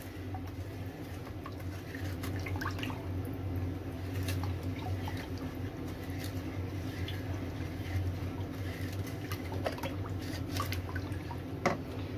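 Water poured over sugar in a container and stirred by hand to make syrup for Moroccan chebakia and briouats: soft, continuous liquid sloshing with scattered drips, light clinks and taps.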